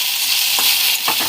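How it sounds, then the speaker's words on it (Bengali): Kenduli frying in a pan as spices are mixed in, giving a dense close sizzle with a couple of quick stirring scrapes, no voices. "তো এটা ভাজা হয়ে এসেছে, এবার মশলাটা দিয়ে দেব।"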